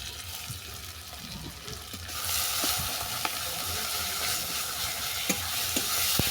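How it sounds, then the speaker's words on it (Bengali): Mashed barma greens with salt being sautéed in a pan, with a steady close sizzle that grows louder partway through, broken by light scraping stir sounds. "এটাকে ভালো করে কষিয়ে নেব"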